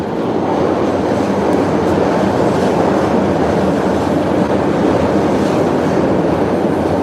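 A Chicago subway train rumbles beneath Michigan Avenue, a steady loud low roar with faint rail clatter that holds for several seconds under city street ambience, with no talk.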